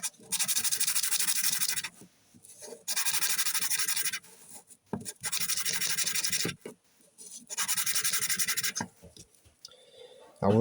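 Hand polishing of a bronze medallion with abrasive grit, loud scratchy rubbing strokes in bursts of about two seconds separated by short pauses.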